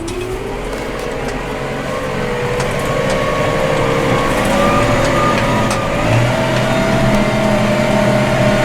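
Heard from inside the cab, a forage harvester's engine pulls away during the maize harvest with a loud, steady droning roar and a whining tone that slowly climbs as the machine gains speed.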